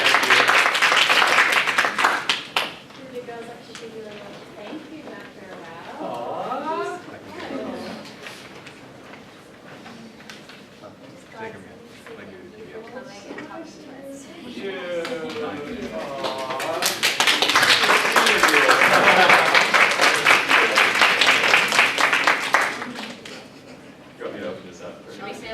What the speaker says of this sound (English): We just got one more round of applause for Dr. Arau.